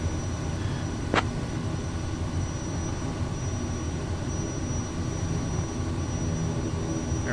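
A Kodiak 100 single-engine turboprop taxis in the MSFS 2024 flight simulator, producing a steady, moderate engine drone with a faint high whine and one brief click near the start, with no talk.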